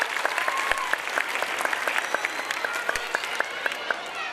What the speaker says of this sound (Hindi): मर्द मुजाहिद के लिए जोरदार तालियां होनी चाहिए। जोरदार तालियां।